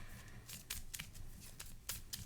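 Playing cards are shuffled during a Marvel Champions card game: a run of quick, crisp riffling bursts over about two seconds, close up and fairly quiet, with no talking.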